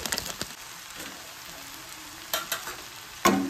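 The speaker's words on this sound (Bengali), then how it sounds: "ভালো করে এটাকে নাড়িয়ে দিয়ে সম্পূর্ণ ভাতটার সঙ্গে মশলাগুলোকে মিক্স করে দেবো" Cooked rice stirred with fried masala in a pan, giving a soft steady sizzle with occasional scraping and clinking strokes of a spatula, close and quiet.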